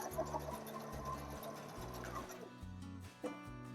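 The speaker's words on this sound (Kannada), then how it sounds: "1/4 ಇಂಚಿಗೆ ಸ್ಟಿಚ್ ಮಾಡ್ಕೊತಿದ್ದೀನಿ ನನಗೆ." Quietly and close by, a sewing machine sews a quarter-inch seam in fabric for a long gown, its motor pulsing in short, regular bursts with light ticking between runs.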